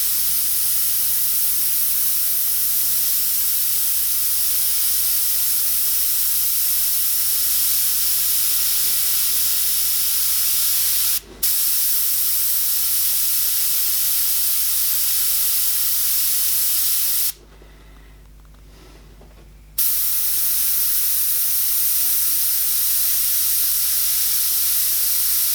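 An airbrush sprays paint while a tiger is painted, a steady close hiss that cuts out briefly once and then pauses for about two seconds before resuming.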